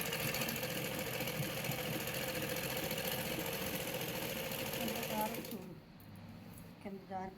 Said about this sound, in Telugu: అంచెది జారకుండా జాగ్రత్తగా ఇది మొత్తం కూడా శారీ అంతా కూడా వచ్చేసేలాగా కుట్టుకోవాలి.